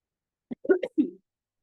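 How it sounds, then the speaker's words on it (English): A person gives a quick cluster of about four short, sharp coughs, close and clear, in an otherwise silent room with no speech. "apologize for the coughing"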